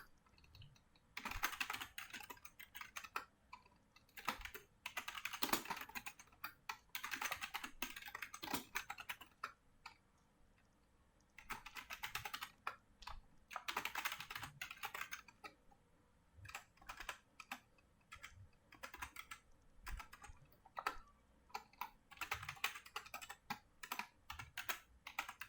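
Someone types on a computer keyboard while entering records into a database, in irregular bursts of rapid key clicks separated by short pauses, close and fairly quiet, with no talking.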